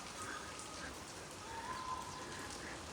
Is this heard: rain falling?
yes